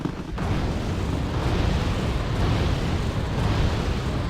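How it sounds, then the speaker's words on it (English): Mortar fire in the Wargame: Red Dragon video game rumbles as a dense, continuous wall of booming explosions, loud and sustained with no pauses and no talk. "Mortars in town here."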